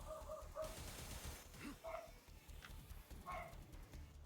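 A dog barks in short, sharp bursts, a few clustered yaps near the start and more scattered ones later, moderately quiet against a steady low background hum with no talk.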